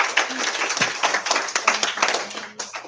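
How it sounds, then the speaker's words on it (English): An audience at a youth congress summit gives a round of applause, steady dense clapping filling the space at moderate loudness with a few voices underneath. "Let's give them another round of applause"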